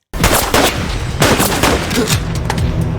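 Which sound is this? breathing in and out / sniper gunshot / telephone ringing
sniper gunshot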